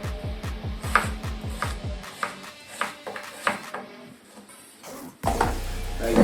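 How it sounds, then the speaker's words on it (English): A knife cuts potatoes into fry-shaped sticks on a tray, starting with a quick run of rapid, close chopping strokes, then slower, scattered single cuts and a scrape near the end. "first I slice and then I get the desired shape"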